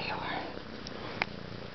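Kittens purring close up, a soft low rumbling texture running steadily under a quiet, affectionate voice.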